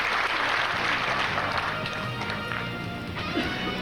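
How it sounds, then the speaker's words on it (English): Audience at a 1995 8-ball pool final applauds warmly after a won rack, steady dense clapping filling the hall throughout, fairly close and even in level. "the crowd gives him a very warm reception for that victory"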